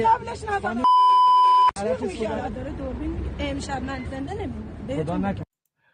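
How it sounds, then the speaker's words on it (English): A steady censor bleep tone cuts through rebroadcast news audio for just under a second; the surrounding stretch is a busy mix of excited voices and crowd chatter from a tense street confrontation between officers and protesters. "I don't know the part that they beeped at"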